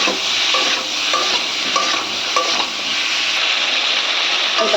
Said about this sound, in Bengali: পরিমাণ মতো নুন দিয়ে এটাকে নেড়ে চেড়ে